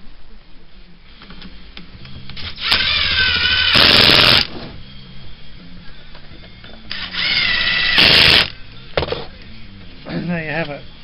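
A power tool cuts wooden corner uprights angled at 30 degrees for a roof pitch, sounding in two loud, rising bursts separated by quieter handling noise, with a voice speaking in between.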